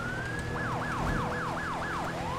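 Police car siren in GTA V with the LSPDFR mod and ELS lighting, a rapid rising-and-falling yelp repeating about six times in quick succession, loud and steady over a constant low engine and road hum.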